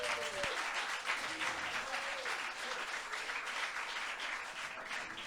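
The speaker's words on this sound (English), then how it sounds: "Give him a round of applause, please." Applause for a pub landlord at a poetry night: a small indoor crowd clapping dense and continuous, fairly close, with a brief voice at the start.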